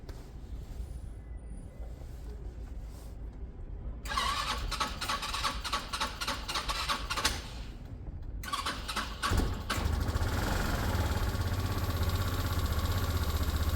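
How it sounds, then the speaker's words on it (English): An older fuel-injected car engine on a project car, first quiet, then cranking and catching into a smooth, steady idle that grows louder and fuller toward the end. "So far it's a pretty smooth sounding engine."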